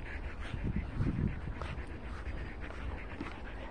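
Puppies pant and whimper softly while playing with a toy ball, a steady close breathy texture with faint high whines throughout.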